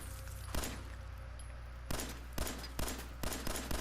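Gunshots in Fallout 4 inside a sealed vault: a single loud shot, then after a pause four more spaced shots in quick succession, close and sharp with no talk.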